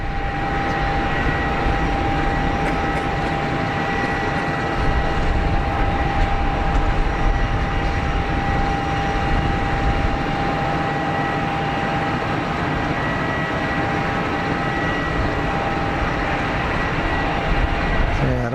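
A Cessna Citation Mustang light business jet moves at Geneva Airport, producing a continuous broadband jet roar with a thin steady whine. The sound stays strong and even at a moderate distance, with no voices.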